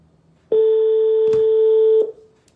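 A single long electronic tone sounds from a mobile phone while a call is dialed, clean and loud, lasting about one and a half seconds before it cuts off, with brief faint clicks around it.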